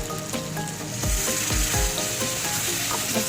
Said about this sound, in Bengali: আর একটু কষিয়ে নিয়ে আমি জল দিয়ে দেবো।